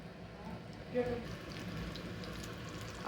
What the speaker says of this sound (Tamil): இந்த மாதிரி நல்லா எண்ணெயில் போட்டுக்கலாம்.